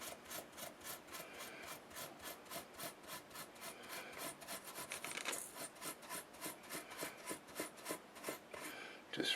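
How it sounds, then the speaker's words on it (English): Steel wool rubbed briskly back and forth over the frets of a cheap mandolin, a steady rhythmic series of close, dry scratchy strokes that quicken slightly toward the end, with no talking. "Just rub each of the frets,"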